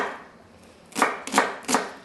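Three sharp knife chops on a cutting board as vegetables for soup stock are coarsely cut, evenly spaced strokes close by after a quiet start, no talking.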